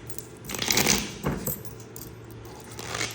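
Coins clattering and jingling during a Tong-its card game, a close burst of metallic rattles followed by a few fainter clinks, no talk over them.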